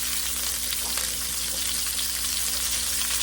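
Chopped onions and celery stir-frying in a hot pan for chicken and vegetable stir-fry, a steady close sizzle with a faint clatter of stirring and no talking.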